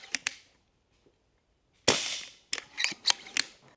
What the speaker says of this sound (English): I'm going to move the gun out of frame. You're going to hear it shoot.